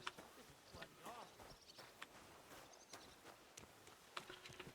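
Horses walking in a video game: a soft, uneven clip-clop of hooves with light patter, fairly faint and mixed under someone talking throughout.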